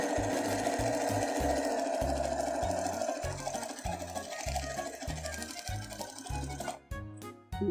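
A sewing machine stitches continuously at a crafting session, its rapid rhythmic mechanical clatter running loud and steady throughout with no speech.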